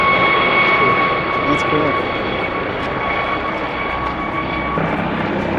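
A helicopter without a tail rotor flies overhead on a hot-day hiking trail, giving a steady, loud droning rotor and engine noise throughout while people talk briefly nearby.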